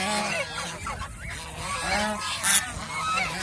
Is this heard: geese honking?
yes